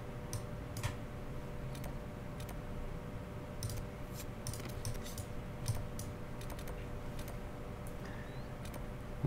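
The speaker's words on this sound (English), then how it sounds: "I'm working on getting the keyboard quieter." Steady clicking of keys on a computer keyboard, soft and continuous with irregular taps, heard quietly over a low background hum.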